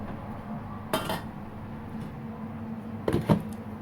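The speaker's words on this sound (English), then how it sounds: "After stirring, I will cover it to cook." A metal lid set onto a pot of Nigerian ora/oha soup with periwinkle, making two short clanks about two seconds apart, near and moderately loud, over a quiet kitchen background.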